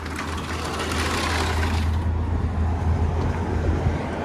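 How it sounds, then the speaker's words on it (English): A bus drives past outside a three-story rental house in Silverado Ranch, Las Vegas, heard as a steady low rumble with broadband road noise that swells and then eases away, with no talking. "There goes the bus."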